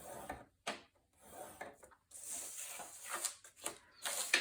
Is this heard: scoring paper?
yes